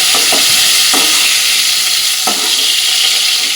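Steady loud sizzling of pointed gourd frying in hot mustard oil, with a few soft scrapes of stirring.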